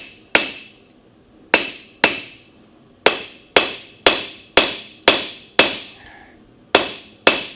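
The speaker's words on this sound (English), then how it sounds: "So now we're forging in the bevel." Blacksmith's hammer forging a bevel into hot steel: about a dozen sharp, ringing metallic strikes in an uneven rhythm, each decaying quickly, loud and close with no talking.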